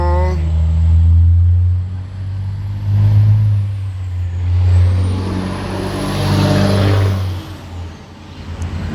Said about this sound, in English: Just wait for that truck to go by.